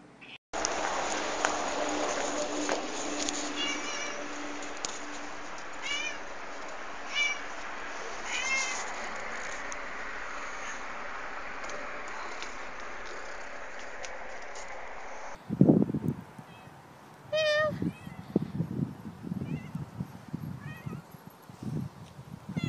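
Cats meow in greeting, several short repeated meows over a steady background hiss, then closer, louder meows near the end with some handling noise.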